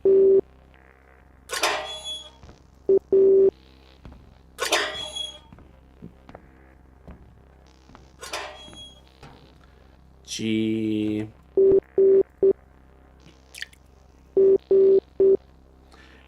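Short steady electronic Morse code beeps come in separate clusters of dots and dashes, loud and close, broken up by bursts of speech and other noises between them.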